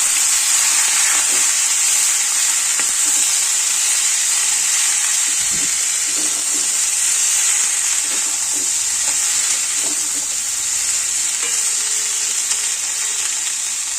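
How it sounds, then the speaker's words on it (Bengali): Malabar spinach and fish head hiss loudly in a hot pan, a steady close sizzle lasting throughout, with a few faint scrapes as it is stirred and no talking. "এবার এগুলো দিয়ে একটু নাড়াচাড়া করে নেবো"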